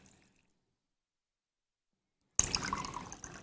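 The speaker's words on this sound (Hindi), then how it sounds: "ये तकरीबन हमने 2 गिलास इसके अंदर पानी डाल लेना" Water is poured into a jug, about two glasses' worth, beginning abruptly after near-silence as a close, steady splashing pour that continues to the end.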